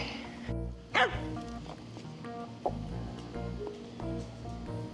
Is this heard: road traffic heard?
no